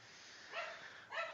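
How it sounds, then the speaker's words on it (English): A household dog barks excitedly as someone comes home from work, two short distinct barks a half-second apart, fairly faint and heard from another room. "my mom just walked in from work and the dog is going nuts"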